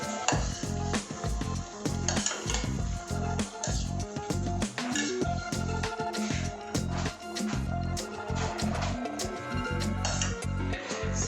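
Paniyaram batter frying in a pan, with steady sizzling under repeated clinks and scrapes of a utensil against cookware, loud and close throughout with no talk.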